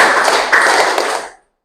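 Rhythmic hand clapping in a classroom, a quick run of crisp claps as part of a clap-count game, close and fairly loud, ending abruptly.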